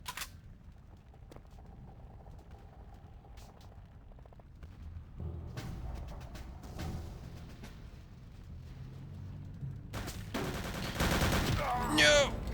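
Gunfire in the video game Return to Castle Wolfenstein, scattered shots early on building to a loud, dense burst near the end, with a player talking quietly in between.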